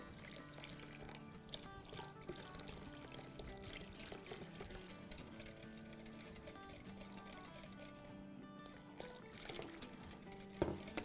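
Water trickles from a container into blended yogurt in a home kitchen, a faint continuous pour and dribble with soft clinks, while the yogurt is thinned for dahi phulki.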